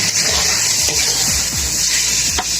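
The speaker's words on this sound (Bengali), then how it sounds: "আমরা ভাজিটা কড়া দিয়ে দিলাম, দিয়ে একটু নাড়াচাড়া করে দিচ্ছি।" Ash gourd bhaji frying in hot oil in a wok, a steady loud hiss with a few soft knocks as the pieces are stirred, in a Bangladeshi village kitchen.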